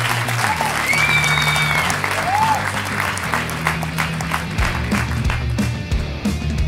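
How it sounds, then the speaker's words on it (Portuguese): Loud crowd applause greeting a comedian introduced on stage at a Christmas roast show, sustained clapping with whoops and cheers mixed in across the whole stretch. "Senhoras e senhores, um forte aplauso, Joel Ricardo Santos!"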